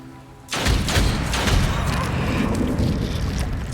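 A gunshot in the tactical roguelite game Othercide lands as a sudden heavy boom. Rumbling, crackling impact noise continues steadily for several seconds afterward.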